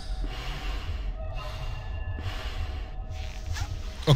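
Breathy snorts from Five Nights at Freddy's 2 come in three or four evenly spaced hissing puffs over a constant low hum, ending with a brief soft thump.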